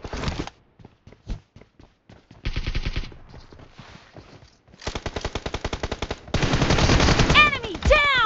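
Loud automatic gunfire in PUBG Mobile, with short bursts, then a long, even stream of shots as an enemy is taken down. Sparse single shots and quieter game effects sit between the bursts, and a few high chirps come near the end.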